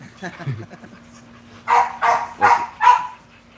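A dog that spent hours on a boat in the sun barks four times in quick succession, loud and close, after soft panting and whimpers amid people talking.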